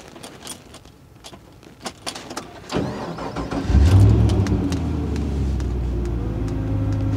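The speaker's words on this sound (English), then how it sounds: "So it starts and sounds like a brand new car when you're starting it" 1994 Land Rover 110 Defender with a brand-new engine: keys jangle, then the starter cranks and the motor catches into a steady, fairly loud idle heard close by, with no talking.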